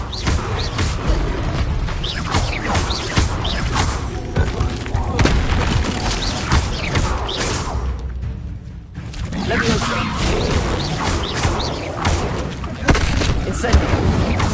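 A Levioso spell cast in Hogwarts Legacy, a whooshing magical burst layered over booming combat effects and rumbling battle noise, with a voice speaking briefly.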